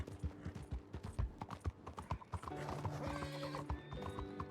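A horse gallops with rapid, close clip-clop hoofbeats in the Western video game Red Dead Redemption 2, then lets out a loud, drawn-out whinny over the tail of the hooves.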